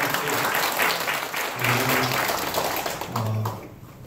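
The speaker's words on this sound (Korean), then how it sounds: "하나님께 영광의 박수 한번 돌려드리고" Congregation applauding during a Korean church service, sustained dense clapping throughout, loud and filling the room, with a few voices faintly mixed in.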